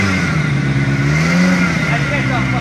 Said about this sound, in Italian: Il motore, dai, sgasa